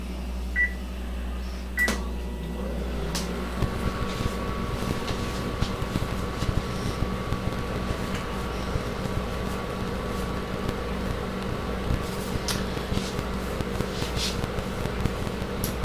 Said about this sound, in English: I'm going to microwave them for